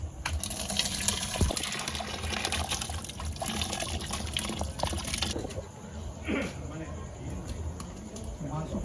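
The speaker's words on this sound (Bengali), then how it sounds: "এখন মাংসটা ট্রান্সফার করব প্রেসার কুকারে" Meat curry sloshes and splashes as it is poured into a 22-litre pressure cooker, with a continuous wet pouring sound and occasional clinks, close by, under background chatter from people nearby.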